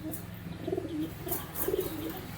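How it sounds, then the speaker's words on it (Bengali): Giribaz pigeons cooing softly in a few repeated low coos, fairly near, over a steady background hum. "দেখতে পাচ্ছেন গিরিবাজ পেয়ারটি"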